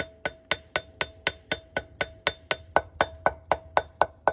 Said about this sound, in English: You notice I'm using a soft face hammer here.